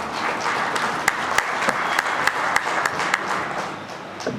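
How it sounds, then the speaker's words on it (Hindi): An audience at a Sainik School Rewari Founder's Day celebration claps in steady, full applause, with a few louder individual claps standing out, and faint voices mixed underneath. "एक बार जोरदार तालियों से इनका स्वागत कीजिए"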